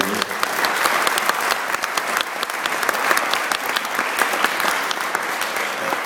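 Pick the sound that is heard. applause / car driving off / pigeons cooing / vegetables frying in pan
applause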